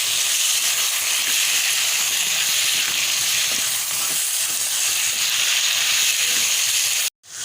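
Minced meat (keema) with tomato and bay leaf fries in oil in a pan, giving a steady, even sizzling hiss that runs unbroken and close, with no talking, before stopping abruptly at the very end.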